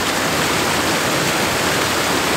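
Waterfall at Three Shires Head in the Peak District, a steady, full rush of falling water that roars loud and close without a break, with no voices.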